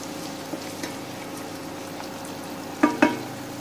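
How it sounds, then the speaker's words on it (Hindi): Onions frying in a pan with salt added give off a soft, steady sizzle, with two sharper crackling pops near the end; no voices. "थोड़ा से 1-2 मिनट फ्राई होने देंगे"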